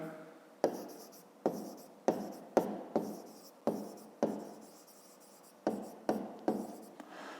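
Pen writing by hand on paper during a maths exercise, a series of short, close scratching strokes with brief pauses between them, quiet and alone.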